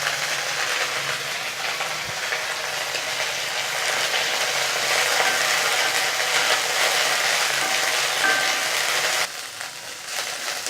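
Leaves are sautéed in a little oil in a pan for rasam, producing a steady hissing, crackling sizzle that runs throughout and drops slightly toward the end, with no speech.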